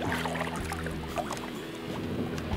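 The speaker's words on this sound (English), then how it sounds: "Try to get the trolling motor going a little bit." A boat's trolling motor hums steadily on the water, a continuous low whirring drone with a faint splashing wash, close and unbroken for the whole stretch.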